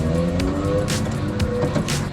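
A Ford Escort Cosworth arrives at a classic Ford show, its engine rumbling close by with a few revs and brief bursts over crowd ambience.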